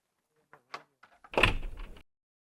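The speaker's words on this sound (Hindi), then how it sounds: "खोल दरवाजा।" A door opens indoors in a domestic setting: a few light clicks and a latch, then a brief louder rattling swing of the door, close and fairly short.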